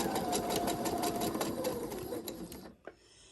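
A sewing machine chain-pieces quilt fabric in a fast, even mechanical chatter that runs steadily, then stops near the end, followed by a faint click.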